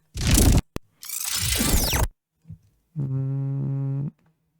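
A burst of crackling noise, a second rushing surge, then a sustained buzzing electronic tone rising into a steady hum, like an energy weapon powering up.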